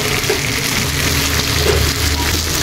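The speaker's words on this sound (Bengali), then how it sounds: "চিকেনটা আগে কষে নেব।" Chicken sizzling in a pan with turmeric and spices, a steady close frying hiss with soft crackles and occasional stirring.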